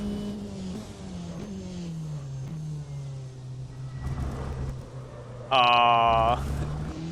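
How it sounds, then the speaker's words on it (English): Sequential gear changes in a race car on a Spa-style circuit in rFactor 2, a droning engine tone stepping down with each shift, ending in a sudden loud high rev burst, while a person talks. "the gear shift sound is so satisfying"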